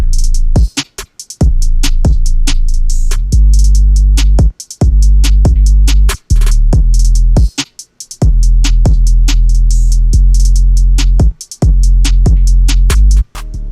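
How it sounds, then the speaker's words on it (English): A punchy FL Studio drum beat with heavy booming 808 kicks and a bouncing snare pattern, loud and steady with brief drop-outs between hits. "And then this is the bounce snare."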